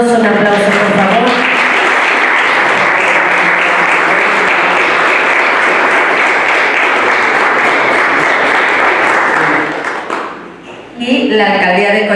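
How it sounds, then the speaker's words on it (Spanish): Loud, sustained applause from a sizable audience at a literary dialogue event in Coyoacán, Mexico City, a thick wash of clapping that fades briefly near the end before talking resumes. "Un aplauso, por favor."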